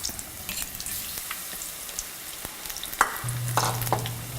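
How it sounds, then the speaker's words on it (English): Quiet sizzling and crackling of batter-coated jackfruit fritters frying in a pan, with scattered pops and a faint background hum. "put the jackfruit into the frying pan"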